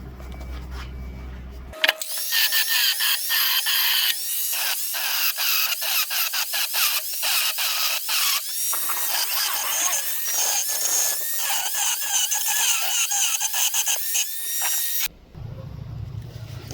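During repair work on a Highland Park rock saw, a grinder works on metal with a loud, continuous, squealing grind that pulses slightly. It starts abruptly after a brief low hum and runs about thirteen seconds before stopping.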